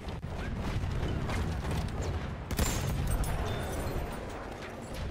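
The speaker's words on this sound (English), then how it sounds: "the Tank Hunter variant, which has an anti-tank rifle in the driver's seat" An anti-tank rifle fires from the Tank Hunter landship in Battlefield 1, a sharp loud crack cutting through a rumbling battlefield of mechanical clanks and distant blasts.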